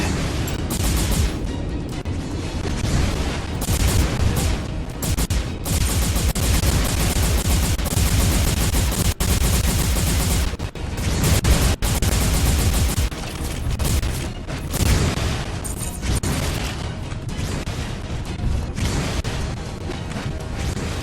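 Sustained loud automatic gunfire in the mech combat game M.A.S.S. Builder, dense continuous bursts with crashes and booms layered over one another for about twenty seconds.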